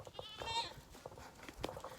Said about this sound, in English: My goats they're young. They're only 3 months old.